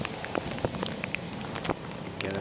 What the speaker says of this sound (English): it's rainy, there's a storm